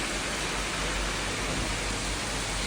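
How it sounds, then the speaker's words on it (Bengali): Rainwater pouring onto potted garden plants, a constant broad hiss that stays even and close throughout, with nobody speaking. "বৃষ্টির পানি আমার গাছে পড়ছে।"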